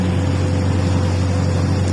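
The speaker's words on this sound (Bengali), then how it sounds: "এই যে আমাদের ছোট ট্রলারটি এই খালটা দিয়ে আইছে" A small trawler's engine chugs on a canal, a loud, steady low drone with a constant rumbling hum and no pauses.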